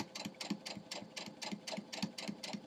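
A sewing machine stitches a quilt block seam for a sawtooth star, its needle pounding in a fast, steady rhythm of close, sharp repeated strokes.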